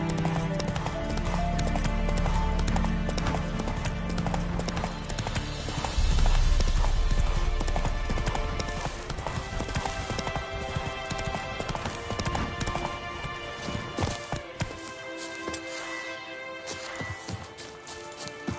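Hooves of a horse galloping in The Witcher video game, a rapid, continuous clip-clop rhythm over a dense, loud mix of game sound.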